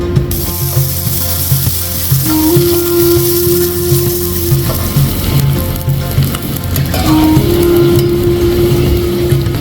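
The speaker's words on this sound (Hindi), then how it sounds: "अब इसके अंदर 2 मीडियम साइज की प्याज डाल देंगे और इसको फ्राई कर देंगे।" Two medium onions frying in a cup of ghee in a kadhai, a steady dense sizzle holding throughout at close range, with rhythmic mechanical clicking and a sustained tonal hum running alongside.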